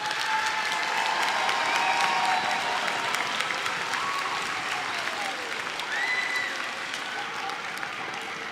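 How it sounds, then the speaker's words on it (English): A middle school audience applauds sixth grade band and string orchestra players at a fall concert, a steady dense wash of clapping that holds for several seconds before easing slightly. "Let's give them all a round of applause."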